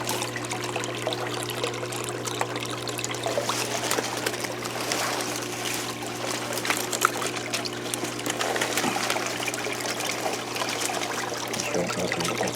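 Steady trickling water runs continuously through aquaponics piping in a winter greenhouse, with a low constant hum underneath and no voices.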